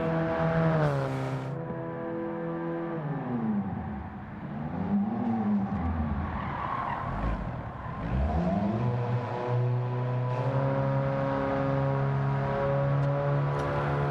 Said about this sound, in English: That racing exhaust on it just makes it sound so weird.